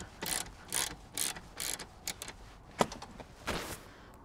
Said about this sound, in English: Okay, nut coming off.